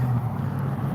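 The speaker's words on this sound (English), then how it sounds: "that damn loud ass truck" A loud truck passes close by on a Fort Myers, Florida street, its engine a steady heavy low rumble filling the whole moment without a break.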